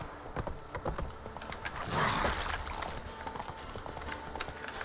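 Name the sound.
horse Roach trotting in The Witcher 3 video game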